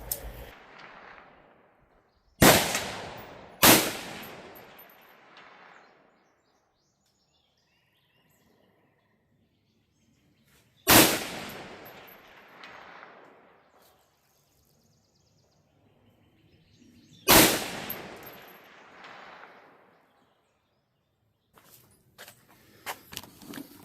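Four sharp rifle shots ring out at targets 400 yards away, each with a long rolling echo trailing off. The first two come close together, followed by two more spaced well apart with quiet in between.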